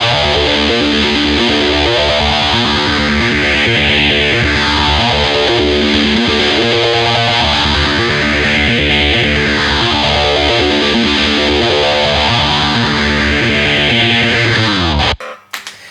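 A loud, heavily distorted electric guitar riff plays continuously with a sweeping phaser effect, then cuts off abruptly at the end.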